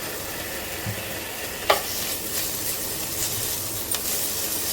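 Ginger garlic paste frying in a pan for a mushroom masala gravy, a steady low sizzle with a spoon scraping and stirring now and then, close by, with no voices.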